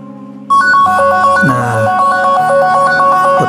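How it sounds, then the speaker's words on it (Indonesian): A lost smartphone rings after a remote play-sound command, its melodic ringtone starting abruptly after half a second of quiet and repeating loud and close. "otomatis HP ini berbunyi"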